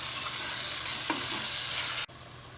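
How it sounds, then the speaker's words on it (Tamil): Tomatoes sauté with ginger garlic paste in a pan for turkey biryani, giving a constant close, even sizzling hiss with a faint stir partway through and a brief sharp knock near the end. "அடுத்ததாக தக்காளியை போட்டு இதையும் கொஞ்சம் வதக்கிக்குவோம்."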